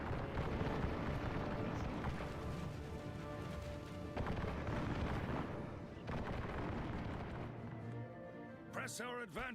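Dense volleys of musket and artillery fire from a fantasy battle strategy game roll on continuously, loud and layered with battle noise and a voice speaking over the din.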